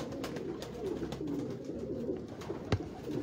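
Pigeons with purple feet coo softly and continuously at close range, their low rolling calls overlapping in a steady murmur, with a few light knocks and shuffles in the coop.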